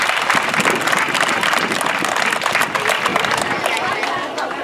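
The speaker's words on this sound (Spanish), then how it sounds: "fuerte el aplauso para doña Elvira" Crowd applause at a Día de Reyes community gathering in Loma Bonita, honouring a neighbourhood association president: sustained clapping mixed with crowd babble and voices, loud and continuous throughout.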